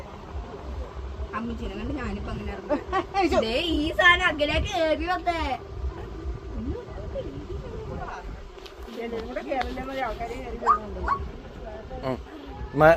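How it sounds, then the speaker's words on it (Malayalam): A small dog yips and whimpers in short high bursts while people talk and laugh nearby. "my little dog small dog"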